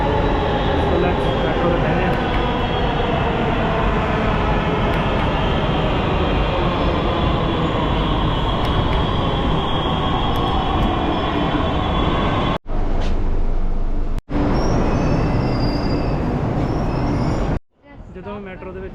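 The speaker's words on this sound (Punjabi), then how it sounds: "ਸੋ ਸਾਡੀ ਮੈਟਰੋ ਜਿਹੜੀ ਆ ਚੁੱਕੀ ਆ" A Delhi Metro train on the Violet Line pulls into the station, a loud steady rumble and whine of wheels and motors filling the whole stretch, with brief breaks near the end.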